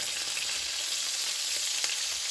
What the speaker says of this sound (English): Okay, this has been cooking for 2 minutes. Now we'll flip it.